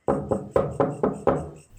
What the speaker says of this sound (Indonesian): terdengar ketukan pelan di jendela